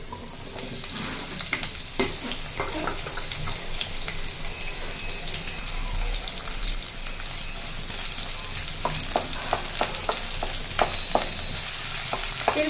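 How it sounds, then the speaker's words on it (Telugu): Three large-cut onions frying in hot oil in a kadai, a steady close sizzle running the whole time with occasional stirring clicks and scrapes. "ఒక మూడు ఉల్లిపాయలు తీసుకుని ఇలా పెద్దగా కట్ చేసి వేసి వేగించాలి"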